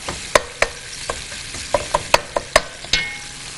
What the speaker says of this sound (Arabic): هاي هسه راح اضيف الشعريه، شويه احمسها.